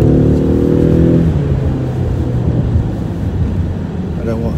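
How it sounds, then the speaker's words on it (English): A car engine revs up loudly and close, its pitch climbing and then settling into a steady driving drone. "Listen to this engine, right?"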